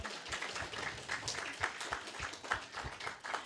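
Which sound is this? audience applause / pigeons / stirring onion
audience applause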